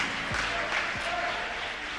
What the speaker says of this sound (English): Come on, clap it up for Jesus.